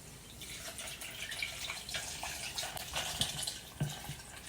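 Rum poured into a pitcher already half full of chilled soda water, a steady splashing liquid stream with a few louder drips and plops near the end, close and moderately quiet.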